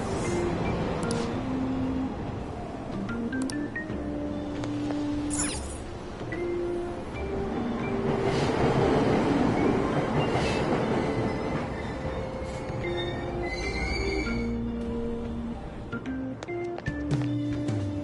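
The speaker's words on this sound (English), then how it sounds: "Train doors are now closing." A train departs a station in the video game Persona 5 Royal, with a rising and falling electric motor whine, rumbling wheels and sustained tonal hums building toward the middle, heard for a long stretch without speech.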